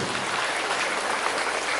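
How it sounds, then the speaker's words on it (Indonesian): Brief burst of dense, even applause from an audience at a university welcoming ceremony for new students, a steady wash of many hands clapping at once. "Sekali lagi beri tepuk tangan yang meriah untuk menyukseskan kegiatan ini."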